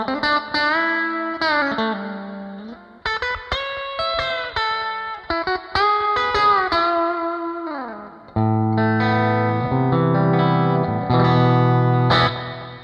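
Electric guitar run through a Jimi Hendrix amp simulation plays a bridge passage, loud and close with crunchy distortion and shimmering effects, bending chords and sustained notes shifting into a thicker, lower-voiced section near the end.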